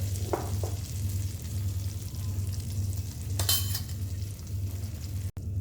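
Ridge gourd pieces with spices sauté in a pan, a steady soft sizzle with a couple of short stirring scrapes and one brighter rustle midway, close and moderate in level.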